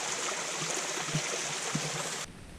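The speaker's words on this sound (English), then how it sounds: "And then it flows down this channel." Water trickles and gurgles from the back of a beaver dam down a narrow channel between lakes, a steady soft stream sound heard close up with no talk.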